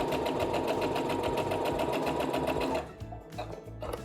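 A sewing machine runs steadily, stitching quilt fabric for a split nine patch block with rapid rhythmic needle chatter, then slows into a few separate stitches near the end.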